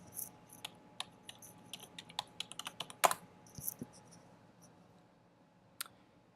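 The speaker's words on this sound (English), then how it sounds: "And we can just type it into this search bar up here." A journal name is typed on a computer keyboard into a search bar, with a quick burst of crisp, close keystrokes, a louder clack near the middle, then a few sparse clicks.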